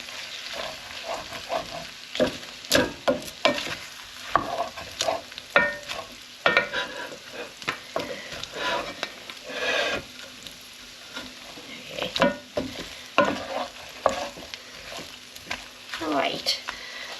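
Flour is stirred into red-hot pan juices, with a spoon scraping and clattering in irregular bursts over a constant close sizzle of frying.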